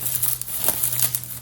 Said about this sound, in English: I'm going to start cutting this just with the scissors